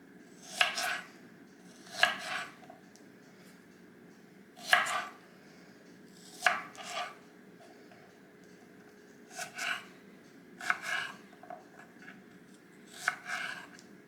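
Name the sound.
knife cutting garlic cloves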